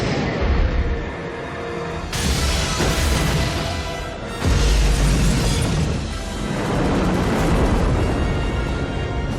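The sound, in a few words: Sidewinder missiles fired and exploding, 1998 Godzilla movie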